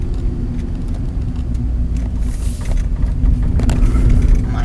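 Steady low road rumble from inside a moving car, continuous and fairly loud, swelling slightly toward the end with faint interior rattles.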